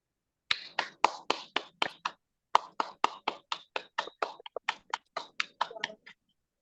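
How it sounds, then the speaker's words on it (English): Scattered, sharp claps and snaps from an online meeting audience, about two dozen crisp hits in an uneven rhythm with a short pause partway through, close and fairly quiet. "Great to hear the applauses"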